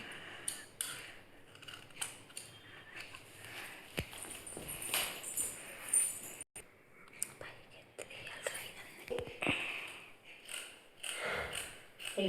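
Scissors cutting folded fabric for a long frock: repeated close snips and blade clicks in uneven bursts, with someone speaking softly between cuts.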